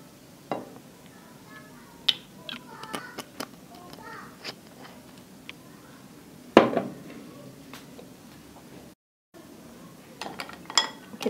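A spoon stirs es kopyor dessert with nata de coco, pandan coconut syrup and liquid in a glass, giving scattered light clinks and taps against the glass over a quiet kitchen background.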